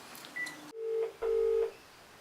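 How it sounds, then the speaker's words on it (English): Telephone keypad tones beep as a phone number is entered, with a brief faint tone followed by two clear, steady dial beeps in succession, close and alone. "Putting in a phone number."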